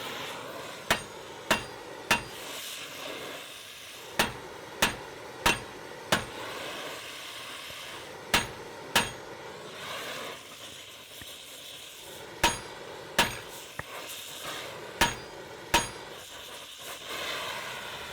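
Hammer blows strike the wooden hull of a boat, sharp single and paired knocks coming in irregular bursts of two to four with pauses between, close and loud over a low background hum.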